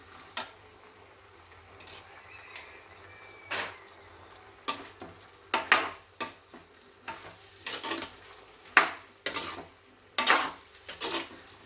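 Eggplant is stirred in a pan for kara kuzhambu, with a series of soft scraping and knocking strokes of a spoon against the pan in an uneven rhythm, fairly quiet and close.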